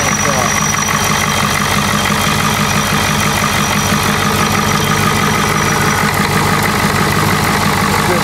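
A worn-out, high-mileage Ford diesel engine idling after a cold start, with a loud, steady, rough clatter running continuously and close by throughout.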